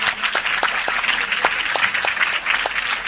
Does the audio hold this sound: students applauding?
yes